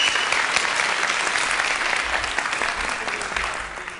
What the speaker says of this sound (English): Nice round of applause, too, for my wife, Jennifer Bernstein.